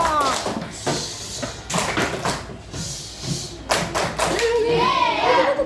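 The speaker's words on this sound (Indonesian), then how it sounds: "buat Sakila tepuk tangan dulu." Children in a classroom clap their hands in short bursts of scattered applause, mixed with thumps and a teacher and kids talking over it.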